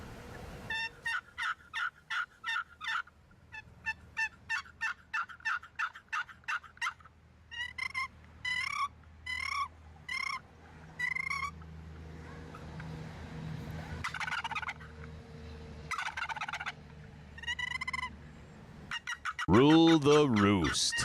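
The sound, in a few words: turkeys gobbling in response to calling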